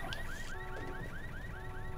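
A car alarm in Halo 3 ODST chirps again and again at a regular pace, each chirp a rising tone, over a steady background hum with no voices.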